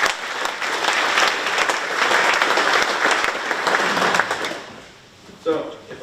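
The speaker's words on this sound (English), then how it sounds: "So give him a round of applause." An audience at the opening of a construction career center at Fort Hays Tech gives a full round of applause that holds steady, then fades away, and a voice comes in as the clapping dies.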